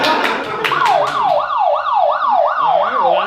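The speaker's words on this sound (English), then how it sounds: "Alright, well that's a police siren." Police siren from a sound guessing game, a loud close wail sweeping up and down in a fast regular cycle, preceded by a few sharp clicks.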